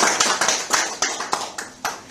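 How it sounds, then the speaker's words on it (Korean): Scattered audience clapping at a political forum seminar, a small group giving sparse, distinct claps that come in irregular bursts and fade, moderately near and fairly quiet. "박수로 맞이해 주시기 바랍니다."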